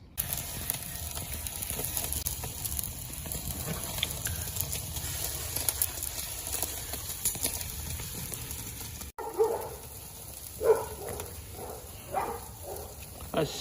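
Neighborhood dogs bark outdoors near a charcoal grill, several distinct barks in the latter half, moderately distant, over a low background hiss and sizzle.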